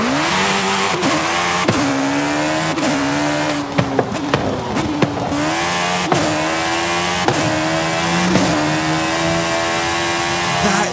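A motorcycle engine in Forza Horizon 5 revving hard through repeated gear shifts, climbing pitch and dropping between shifts, loud and close.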